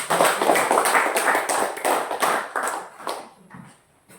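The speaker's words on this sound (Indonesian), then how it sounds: "kasih tepuk tangan" A class of schoolchildren claps together in steady, dense applause that fades out toward the end.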